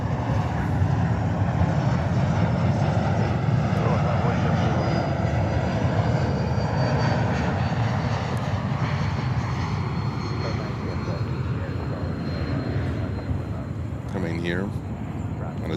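Jet engines of JetBlue airliners at JFK airport in New York, a broad steady roar that fills the whole stretch, with a brief rising whine near the end and radio-style voices talking over it.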